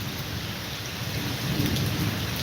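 Heavy rain pours steadily in Bassi Pathana, Punjab, with deep rumbles of thunder rolling underneath, a dense constant wash of sound with no voices.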